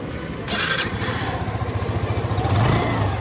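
Hero Xoom 2023 scooter engine with a sporty muffler starts with a quick crank, then settles into a steady close exhaust burble with a slight rev near the end.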